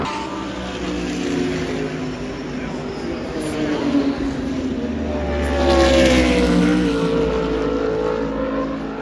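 Race cars pass at the 24 Hours of Spa endurance race, heard from a balcony: a steady engine roar swells and fades as cars go by, with a louder pass midway and people talking over it.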